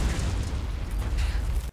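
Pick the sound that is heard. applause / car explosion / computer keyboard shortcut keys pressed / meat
car explosion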